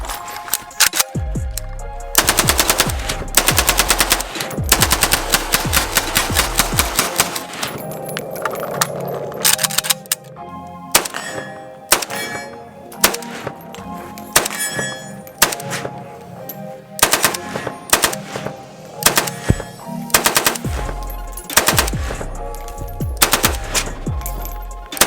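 A modernized AK rifle with a rail-mounted white light and collapsible buttstock fires long full-auto bursts, loud, rapid and close, with short pauses between strings of shots and no talk.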